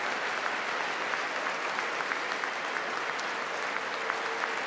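Lawmakers in a chamber applaud during a State of the Union address, a continuous, full crowd of clapping heard at moderate level, steady and unbroken throughout, with no voices on top.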